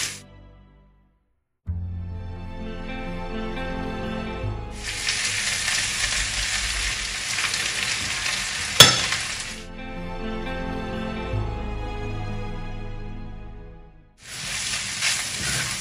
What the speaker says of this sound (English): Cook out some of the vegetables and start frying the rice.